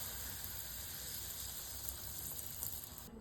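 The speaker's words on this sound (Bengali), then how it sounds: "গরম গরম তালের লুচি এই ভাজা হলো" Palm-fruit luchi fry in hot oil with a steady, faint sizzle and hiss that holds evenly throughout.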